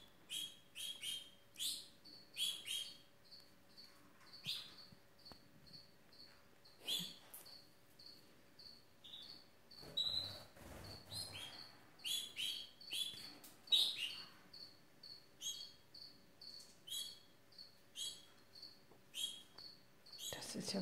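Canaries chirp in quick, high clusters of tweets that repeat throughout, soft and fairly close, with faint background noises between the calls.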